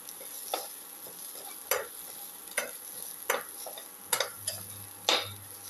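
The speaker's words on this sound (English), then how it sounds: "Keep on sauteing." Onion or shallots with salt sautéing in a pan, with a quiet sizzle under repeated sharp stirring scrapes and clicks of a utensil about once a second, close and fairly faint.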